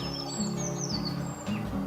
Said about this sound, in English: way up in the top of the tree, I hear a song thrush